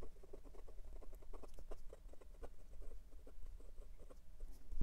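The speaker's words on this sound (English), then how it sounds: "It is smooth, and it is decently wet for a very fine nib, and it has a lot of feedback." Fine-nib Jinhao 82 fountain pen scratching across paper, a close, quiet run of short scratchy strokes in an irregular rhythm with no voices.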